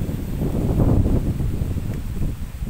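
Steady wind gusting around a hillside grave site in Malang, a broad low rushing roar with leaf rustle, fairly loud and continuous with no talking.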